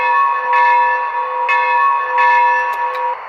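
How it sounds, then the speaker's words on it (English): Small steam locomotive bell from a Maxx Traxx 604 digital train sound system rings in a steady repeating rhythm, several clear metallic strikes sustaining over a constant tonal hum, loud and close with no talking. "I'll go ahead and just ring the bell."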